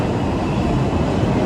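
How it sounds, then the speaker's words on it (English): A Long Island Rail Road train pulls out of the Atlantic Yards station in Brooklyn, a loud, close, continuous low rumble filling the platform with no talk over it. "And here goes a train pulling out of the station."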